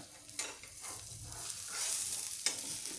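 Green cucumber tavse cake cooking on a griddle, a soft continuous sizzle close by with a few scraping and stirring clicks.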